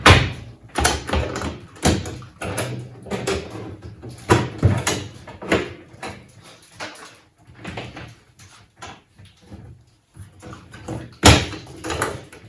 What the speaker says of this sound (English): the last thing we need to do now is put our top panel on here